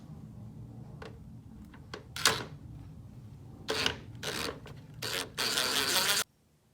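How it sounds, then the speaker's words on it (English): A ratchet working Torx screws loose on an Audi A3 headlight assembly, giving quiet intermittent clicking bursts and buzzy ratcheting close up, ending in a longer run of rapid clicks before stopping. "What I'm going to do is I'm going to remove this torque screw on all 3"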